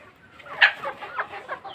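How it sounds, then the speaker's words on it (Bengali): Chickens clucking close by on a small poultry farm, a short series of soft, uneven clucks with one louder call near the start. "ছোটোখাটো একটা মুরগির খামার"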